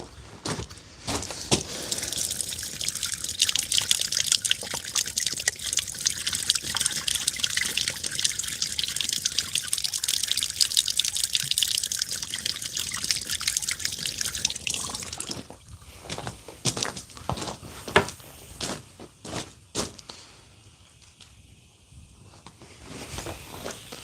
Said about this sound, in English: I'm going to give it a rinse here.